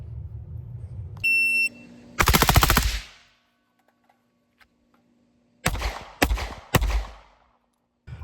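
A rifle fitted with a JAKL super safety fires one quick burst, then after a pause three sharp separate shots ring out, loud and close, with an electronic beep just before the first burst.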